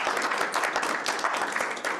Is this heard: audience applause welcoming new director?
yes